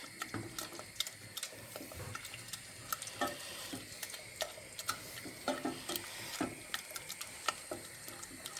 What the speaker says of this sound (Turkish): Şimdi bunu karıştıra karıştıra muhallebi yapacağım.